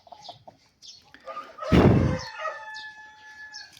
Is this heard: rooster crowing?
yes